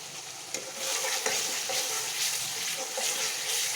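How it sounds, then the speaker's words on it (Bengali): Spice paste for egg curry being stir-fried in oil, a continuous sizzle with scraping stirring strokes recurring every half second or so, close and fairly loud with no talking. "খুব ভালোভাবে মশলাটাকে কষিয়ে নেব"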